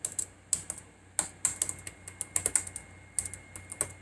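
Keys clattering on a computer keyboard in quick irregular bursts, close and fairly quiet, with short pauses between runs of strokes and no talking.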